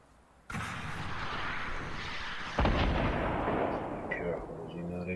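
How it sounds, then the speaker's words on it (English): Sniper rifle fire in the Fortnite Battle Royale video game: a sharp shot cracks out, a second heavier report follows, and each trails into a long rumbling echo, followed by faint game sounds. "Trying to snipe me."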